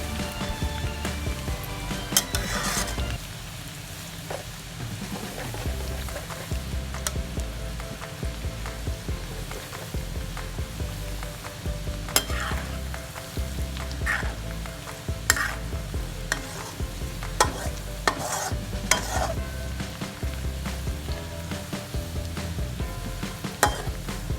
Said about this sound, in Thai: หอมเขาจะสุกช้ากว่ากระเทียมนะคะ เพราะฉะนั้นพอหอมเหลืองๆแล้วก็ใส่กระเทียมไปได้ค่ะ